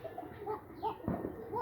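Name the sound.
pigeons cooing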